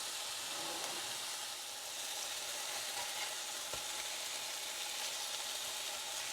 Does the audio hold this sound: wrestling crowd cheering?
no